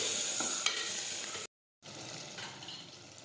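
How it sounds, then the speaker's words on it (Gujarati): Chopped eggplant and potatoes being stirred in a hot pan, a soft sizzle with light scraping, briefly cut to silence before the quiet frying resumes. "હવે આપણે સમારેલા રીંગણા અને બટેટા નાખી દઈશું. આ રીતે ફેરવી લઈશું."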